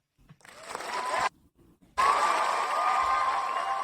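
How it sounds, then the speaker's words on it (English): A burst of crowd cheering and clapping swells, cuts off briefly, then returns louder and sustained. "Can we get a round of applause?"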